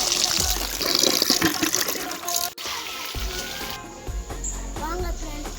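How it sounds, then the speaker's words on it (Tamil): Water is poured onto a newly planted tree, giving continuous splashing and trickling with a brief pause midway, set against busy outdoor background noise. "இப்போ நம்ம தண்ணி ஊற்றலாம்."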